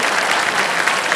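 A TV quiz show's studio audience breaks into steady applause, a loud, dense wall of clapping with no pauses across this short burst.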